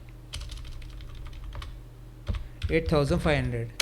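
Rapid clicking of computer keys as numbers are typed into Tally Prime accounting software, a steady run of light taps followed by louder, busier keystrokes with a voice talking over them near the end.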